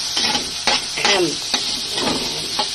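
Pork meat sautés with onion and ham in a hot pan, giving a close, steady sizzle broken by repeated scraping stirs at an uneven rhythm.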